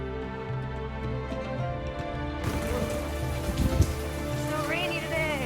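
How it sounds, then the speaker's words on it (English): Rain falling steadily outdoors on a hike up Elephant Mountain in Taipei, a constant hiss of drops on surfaces with people talking over it and a brief higher sound near the end. "So rainy today."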